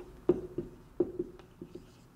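Pen strokes on paper as a short note is written by hand, a handful of quick soft taps and scratches spaced unevenly across a couple of seconds, close and quiet.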